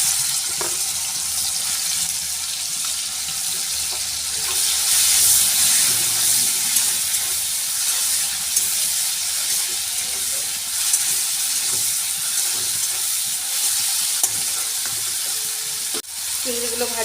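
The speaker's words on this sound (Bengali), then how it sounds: "আমি এখানে নুন হলুদ মাখিয়ে চিংড়িগুলো ভেজে নেব।" Prawns coated in salt and turmeric fry in hot oil in a wok, giving a steady, close sizzle that holds for a long stretch, with a brief clunk near the end.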